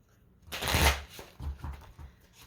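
Tarot cards are shuffled close by, a loud riffle followed by a few softer taps and slides as the deck settles.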